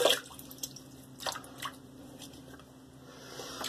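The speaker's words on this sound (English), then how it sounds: "So let me wet my face again." Water splashes and drips as a face is wetted during a wet shave, with soft irregular splashing and dripping close by and no talk.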